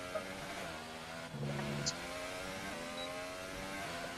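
Racing car engine in a racing video game easing off speed, a steady mid-level engine drone with stepped pitch changes as it slows, heard alone without talk.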